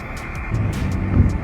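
A 2007 Ford Mustang with an automatic transmission driving on winter roads, a steady low engine drone and road rumble that swells slightly midway, heard from inside the car with no talking.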